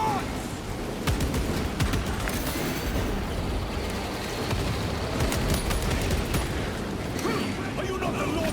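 Gunfire in the video game Warhammer Space Marine 2, dense rapid cracks and blasts over a constant roar of battle, with shouted voices mixed in throughout.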